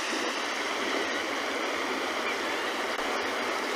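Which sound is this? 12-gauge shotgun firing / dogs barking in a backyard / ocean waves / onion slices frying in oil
ocean waves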